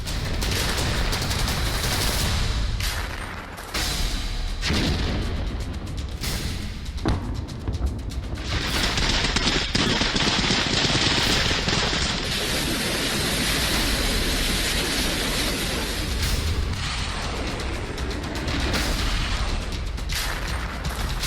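Gunfire and bombardment in the Russia-Ukraine war: dense, sustained volleys of shots and booming blasts roll on continuously at loud volume, with no talking.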